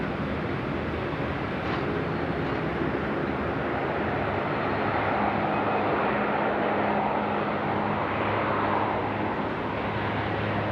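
A fixed-wing airliner taking off at night from runway 16 right at Sydney Airport, a broad continuous engine roar heard from a distance, steady and sustained without talk.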